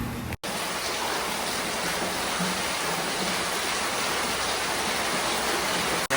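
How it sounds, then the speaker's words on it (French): Warm tropical rain pours down in Ubud, Bali, a dense, even hiss that fills the whole stretch without pause, broken only by two brief dropouts near the start and end. "Bah c'est pas nous, c'est la pluie."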